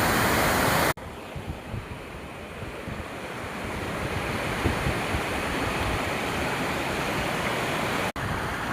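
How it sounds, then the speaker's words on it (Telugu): The Lingampet stream, swollen and flowing fiercely, gives a loud, continuous roar of rushing water mixed with gusty wind buffeting the microphone, broken by brief cuts near the start and end. "లింగంపేట వాగు ఎంత ఉధృతంగా ప్రవహిస్తుంది చూడండి"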